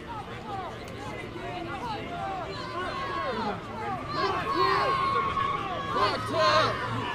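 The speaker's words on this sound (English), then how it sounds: "Crowd still hasn't left." A protest crowd outside the Kim Potter trial shouts and chants in overlapping voices, a dense, sustained roar of many people that swells louder toward the end, with scattered yells rising above the mass.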